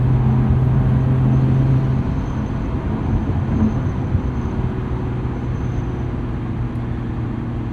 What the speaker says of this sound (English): I was expecting wind intrusion to be a little bit better in this car, even apart from the whistle from our left side rearview mirror